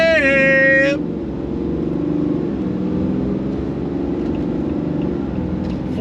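A Ram 2500 pickup, about 8,000 pounds with an 8-speed transmission, accelerating on throttle: a steady low engine drone rising gently in pitch, heard from inside the cabin after a brief high tone at the start.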